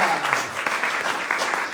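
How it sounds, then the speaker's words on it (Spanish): A church congregation at a Spanish-language worship service bursts into loud, dense applause, a short burst of many hands clapping together. "Dale un aplauso fuerte a tu rey."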